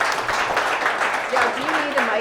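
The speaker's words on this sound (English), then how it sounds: "I wanted to put two hands together and give him a warm round of applause." Brief warm applause from an audience for a speaker at a productivity talk, a short clatter of clapping mixed with people talking over it.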